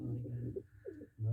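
A pair of lakka pigeons sitting on their eggs in a nest, giving a couple of short, low throaty coos up close, with someone speaking over them.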